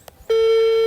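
A telephone call rings out on the line: after a soft click, one steady electronic ringback tone starts and holds loud and unbroken to the end, with no voices.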